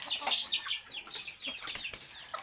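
Pet chickens, including speckled hens, cluck and chatter close by in a busy overlapping flurry of short calls, with a faint flutter of wings.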